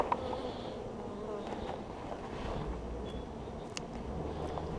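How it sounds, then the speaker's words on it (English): Bees and a wasp buzz around an open beehive during a spring hive inspection, a steady faint droning hum with a few nearer passes over quiet outdoor background. "Ooh, first wasp of the season too."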